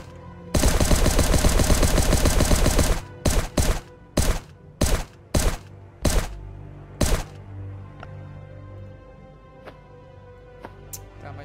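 M16 rifle fire at a turret in the Last Day on Earth survival game: a loud sustained automatic burst of about two and a half seconds, then six short separate bursts at roughly even intervals, with no voice over them.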